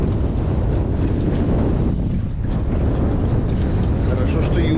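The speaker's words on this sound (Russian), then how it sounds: "Ах, ветер, ох, ветер, ветер, ветер," Strong wind roars steadily into the microphone on open water during longline fishing from a boat, a continuous loud rush with faint wave wash beneath it.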